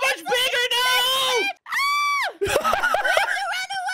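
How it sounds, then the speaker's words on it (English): Friends in a Minecraft game let out loud, high-pitched screams at a jump scare, two bursts of shrieking with a short gap between, followed by excited overlapping voices. "They screamed so super loud!"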